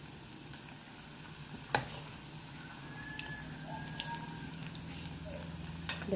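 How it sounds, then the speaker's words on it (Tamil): Spicy, crispy bread vada deep-frying in hot oil in a home kitchen, giving a steady, soft sizzle and crackle throughout with a few sharper pops and no talking. "இப்போ தான் ஃப்ரை ஆகி கொண்டிருக்குது."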